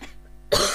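A single short cough bursts out after a brief quiet moment, close and fairly sharp.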